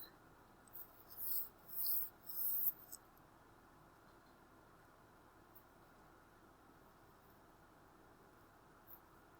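Marker or chalk being erased from a classroom board: three short rubbing strokes near the start, then near-silence with faint room hiss.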